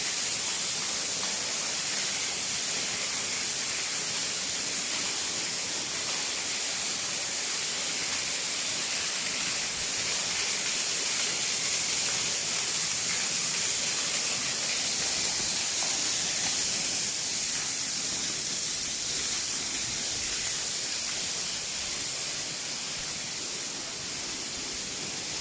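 Dense, continuous hissing spray of water fills a very wet underground slate mine chamber, loud and steady throughout with no voices.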